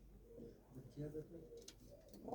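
Pigeons kept by a fancier coo softly, a few low murmuring calls close by and faint, with some quiet background sound.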